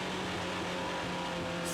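TVR Tuscan race car engine heard from onboard during a 2003 TVR Tuscan Challenge race, a steady loud drone with no clear revving, consistent with the car losing power.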